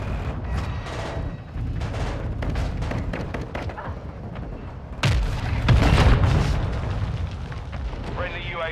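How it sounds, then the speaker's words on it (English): Mortar strike explosions in Call of Duty: Modern Warfare II on the Shipment map: rumbling gunfire and battle noise, then a heavy close blast at about five seconds followed by rolling booms and debris, with a radio voice under the action. "Hostile mortar strike near your position."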